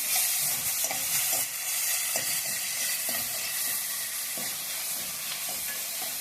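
Onions sautéing with salt in a pan for Kerala chicken perattu, a constant loud frying hiss with regular stirring scrapes from a spoon, close and without speech.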